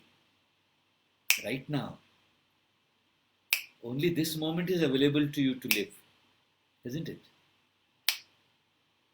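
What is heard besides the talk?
finger snapping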